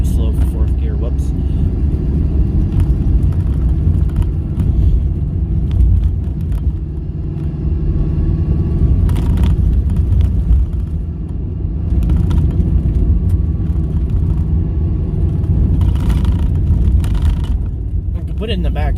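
A car drives a winter road in fourth gear at low speed, its engine a steady loud low rumble with road noise throughout while someone talks over it.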